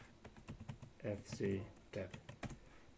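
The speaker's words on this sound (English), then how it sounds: "I'm about to type in sudo vim fstab." Quick clicking keystrokes on a computer keyboard while typing a Linux terminal command, close and quiet, with a voice speaking over part of the typing.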